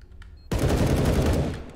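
Burst of gunfire in the video game CS:GO, a sudden loud sustained volley that starts abruptly after near silence and rattles on dense and close for over a second before easing.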